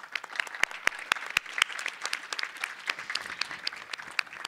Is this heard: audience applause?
yes